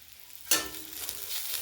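Ground red chilli, coriander and cumin powders hit hot oil with fried garlic for capsicum prawns, bursting into a loud sizzle after a quiet start and then settling into a steady crackling fry with faint stirring, close up and alone.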